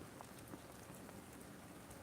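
Steady rain falls outdoors on a cloudy day, a soft continuous hiss with scattered drop patters, fairly faint and unbroken throughout, with no talking.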